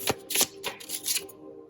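Tarot cards being shuffled by hand, a series of quick papery riffles and flicks in uneven bursts, close and fairly quiet, with no talking.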